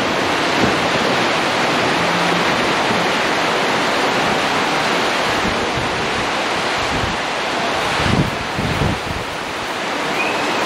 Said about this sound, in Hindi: देखो ये बारिश तूफान के साथ